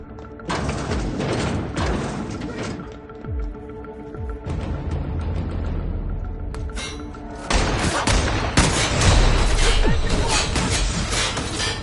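Dense gunfire fills a fight in The Outer Worlds, with sharp overlapping shots and booms in loud clustered volleys that pause briefly and then resume heavier.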